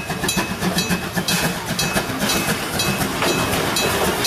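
A small toy Thomas train rattling along with rhythmic clickety-clack and a whirring motor, steady and close, no talking.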